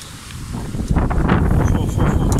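Strong gusting wind during a bicycle ride buffets the microphone with a steady roar that swells and rustles, loud and close throughout.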